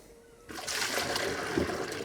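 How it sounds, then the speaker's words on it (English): Water is poured in while flushing a Graco GXFF airless paint sprayer. After a short quiet start, a sudden splashing gush begins and runs on steadily, close by. "So what I'm going to do now is just pour a bit more water in."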